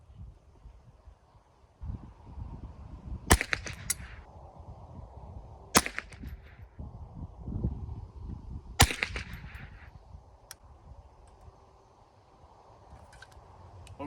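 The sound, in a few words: gunshots from Savage 62 .22 LR rifle, CCI Mini Mag ammo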